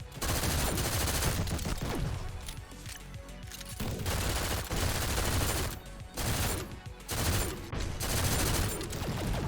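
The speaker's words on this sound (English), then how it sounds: "Actually, no, the burst rifle is pretty good." A burst rifle fires in the first-person shooter GTTOD: Get To The Orange Door. Rapid clusters of gunshots repeat with short gaps between bursts, loud and close, with no talking.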